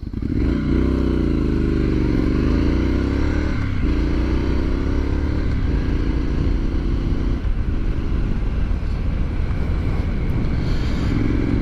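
A 2023 Triumph Scrambler 900 rides off and accelerates, its loud, close engine rising through the gears with pitch sweeps and brief dips at shifts, against steady wind rush.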